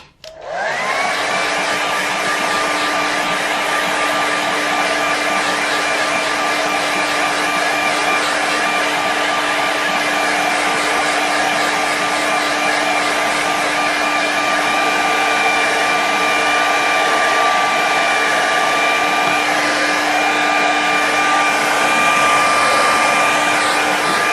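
A hair dryer blows steadily to quick-dry a watercolour mountain landscape painting, switching on and then holding a loud, constant whirring roar with a steady tonal whine, close by and with no talking.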